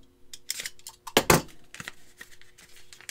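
A taped package containing a trading card is cut open with scissors or a blade, giving sharp snipping and crinkling bursts, with one loud close crunch near the middle and lighter rustles around it, and no talk.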